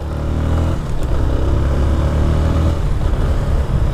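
A motorcycle engine runs steadily at close range, a continuous low rumble with rough clattering texture and a slight surge partway through, on a city street in Poços de Caldas with a possible fuel problem.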